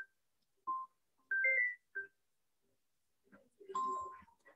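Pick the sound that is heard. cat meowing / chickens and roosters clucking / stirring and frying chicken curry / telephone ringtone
telephone ringtone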